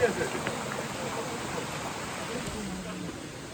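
A river and stream flowing beside a forest trekking trail on the climb to Bhimashankar give a steady, broad rushing wash of water, with faint voices underneath.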